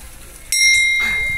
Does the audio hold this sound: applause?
no